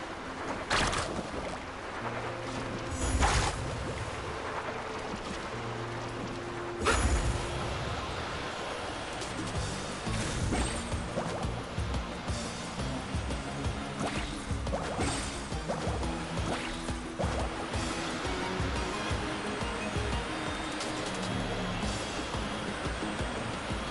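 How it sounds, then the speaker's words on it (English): Surfing across waves in the video game Genshin Impact, a continuous splashing water rush with periodic whooshes and game effects, loud and dense throughout with music underneath. "Carving waves!"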